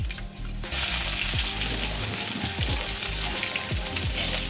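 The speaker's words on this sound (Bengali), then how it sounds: "তারপর দিব রসুন কুচি" Chopped garlic hits hot oil already seasoned with black cumin seeds, a sudden loud sizzle that keeps crackling and hissing steadily up close, with a few soft knocks of the pan or spoon.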